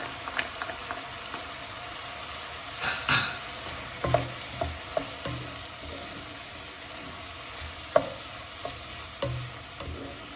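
Vegetables with added onion frying in a pan for an easy chicken-breast dinner, a steady close sizzle broken by a spoon scraping and clinking against the pan several times, with no talk.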